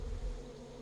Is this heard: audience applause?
no